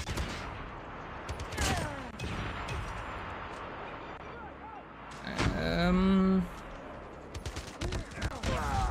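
Rapid gunfire bursts crack repeatedly in the mobile shooter game Call of Duty Mobile, with sharp shots scattered through the clip amid game sounds while a player talks over the action.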